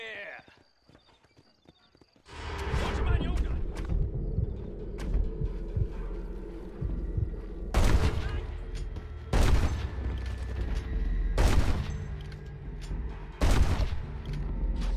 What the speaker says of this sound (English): Oh shit, I shot his hat off.